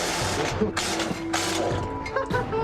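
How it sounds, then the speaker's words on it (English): A tool works loose the bolts holding a tank's gun mantlet, giving close, uneven mechanical ratcheting and clanking that recurs in short bursts over a steady background. "I'm just about to try and undo 4 bolts that hold the mantlet."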